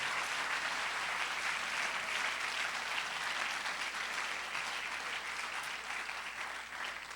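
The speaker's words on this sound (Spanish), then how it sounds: "Dele fuerte el aplauso al Señor" A church congregation claps loudly for the Lord during a sermon, a thick sustained wash of applause that holds steady and fades slightly near the end.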